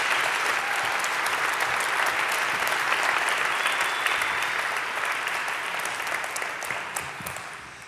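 A conference audience at the VERGE 2017 event claps for the GreenBiz team, a full, even round of applause sustained for several seconds and slowly fading near the end.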